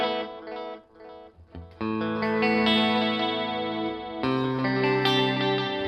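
Electric guitar through an Eventide H9 with reverb and the El Grunjo effect: sustained chords ringing out loud and saturated with a shimmering, echoing tail, a brief dip then a fuller, brighter chord change, no voices.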